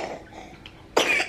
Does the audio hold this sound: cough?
yes